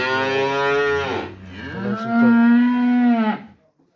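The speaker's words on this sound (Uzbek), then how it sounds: "Bu ham sigir." A cow moos loudly and close by, two long drawn-out calls with a brief break between them.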